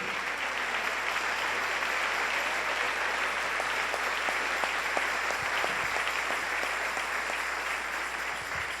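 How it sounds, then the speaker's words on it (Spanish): A church congregation applauds steadily, a dense, even wash of many hands clapping together that holds at a moderate level throughout without pause. "Dale un aplauso al Rey."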